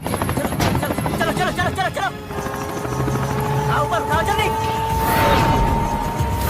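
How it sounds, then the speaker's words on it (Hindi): A helicopter in a Bollywood action film scene sets up a loud, continuous rotor drone that runs the whole time, mixed with dramatic soundtrack tones and voices. "एक बार जॉन भाई साहब ने हेलीकॉप्टर को खींच के नीचे उतार दिया था"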